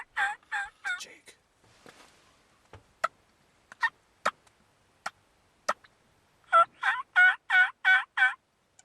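Wild turkeys gobble in a snowy field during a blizzard bow hunt, with bursts of rapid, rattling gobbles at the start and a long, loud run of repeated gobbles near the end, and sharp clicks and ticks between them.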